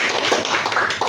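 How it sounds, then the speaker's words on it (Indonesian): A church congregation claps together during a sermon, a dense, steady patter of many hands sounding close and lively for about a second, with no voices over it. "Tepuk tangan buat Tuhan Yesus."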